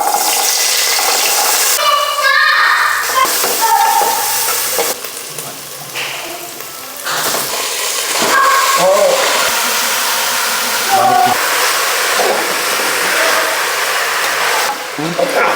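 Crushed shallots, garlic and ginger sizzle steadily in a hot pan, a loud continuous frying hiss with a few brief tonal clinks and bumps along the way.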